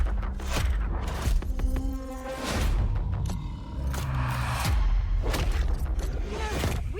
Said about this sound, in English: We sure cause a lot of explosions.